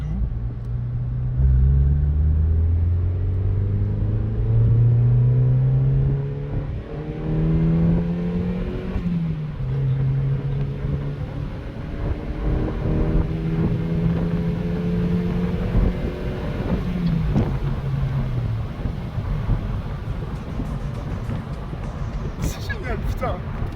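Mazda MX-5 NBFL roadster engine revving and accelerating on the road, a loud, close, low rumble with rising and falling pitch through gear changes, with occasional speech from occupants.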